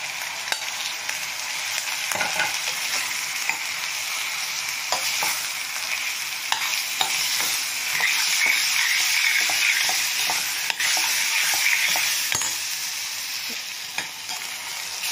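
Chopped tomatoes sauté with onions in a pan for a non-veg gravy, giving a steady, close hiss and crackle that runs unbroken with small stirring scrapes and no voices.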